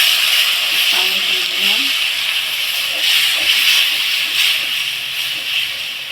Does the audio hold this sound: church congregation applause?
no